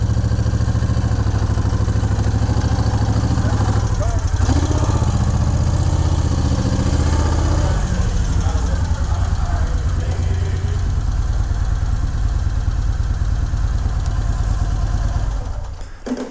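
A 2000 Moto Guzzi Jackal motorcycle engine idles close by, a loud, continuous throbbing rumble with a steady mechanical clatter throughout.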